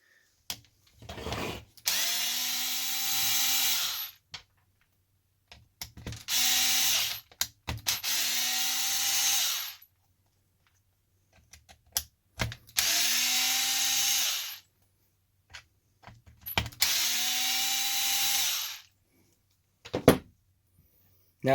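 A power drill backs screws out of a Redcat Kaiju RC car in four separate whirring bursts, each a couple of seconds long, with quiet pauses and small clicks between them.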